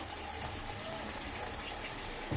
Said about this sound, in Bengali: এবার মা এটাতে জল দিয়ে দেবে